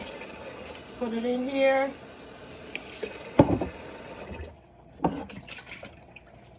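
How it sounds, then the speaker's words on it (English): Cold water runs from a kitchen tap to rinse beef ribs, a steady splashing stream with a few brief knocks, while a person talks close by. "Get a little cold water."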